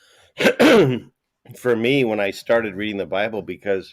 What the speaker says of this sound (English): that was a cough, but I'll save that later in case I sneeze.